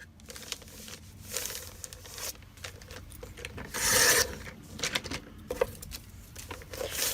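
Paper is cut to size for a junk journal, giving soft, close rasping and rubbing. The scraping is uneven, with one louder swipe midway, over quiet background.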